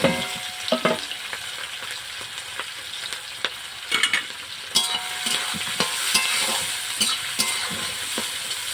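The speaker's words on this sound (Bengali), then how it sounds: "এই যে ক্যাপসিকাম, বিনস, গাজর এগুলো দিয়ে দিচ্ছি।" Capsicum, beans and carrots stir-fry in a pan for fried rice, giving a constant close sizzle broken by sharp scraping and clacking strokes of a spatula at irregular intervals.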